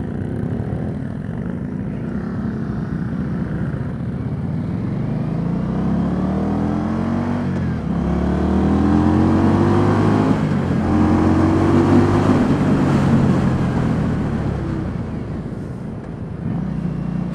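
An Indian Scout motorcycle engine accelerating on a test ride, a loud continuous drone that rises in pitch as the revs climb, then dips slightly near the end, with no talking.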